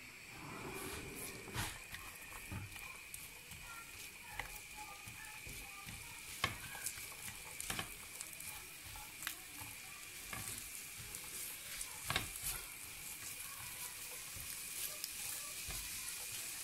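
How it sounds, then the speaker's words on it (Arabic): Chopped onion sizzles in hot oil in a home kitchen, a steady crackling fry broken by intermittent scraping clicks as it is stirred, close and fairly quiet throughout. "كنخليوها كنحركو البصلة بشوية، كنخليوها حتى طيب"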